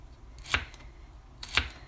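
A knife chops almonds on a board in two sharp, separate strikes about a second apart, close by and fairly quiet, with no talking.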